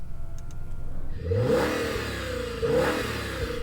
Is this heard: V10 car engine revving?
yes